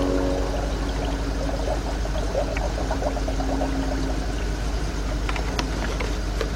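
Coolant pours into the cooling system of a Ford Explorer during water pump replacement, a steady gurgling trickle with small bubbling splashes over a low hum, close by and without speech.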